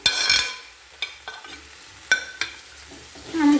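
Grated beetroot and carrot frying in a pan with tomato, stirred in a few distinct scraping bursts with quieter sizzling between, close and fairly loud, no voices.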